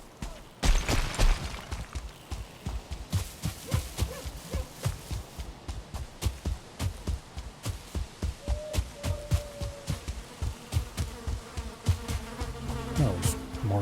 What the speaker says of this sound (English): Oh, there's more bees here.